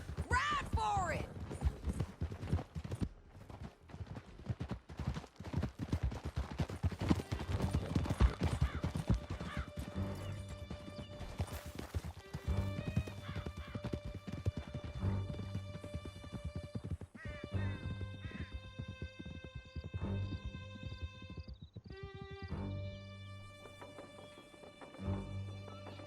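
Several horses gallop in Red Dead Redemption 2 during an escape through a canyon, hooves pounding steadily under game dialogue and music, with a whinny near the start.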